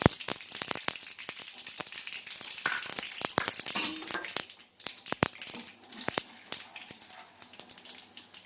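Mustard seeds, urad dal and fennel powder sizzle and crackle in hot oil in a pan, with sharp, rapid pops scattered over a loud, close frying hiss that thins out toward the end.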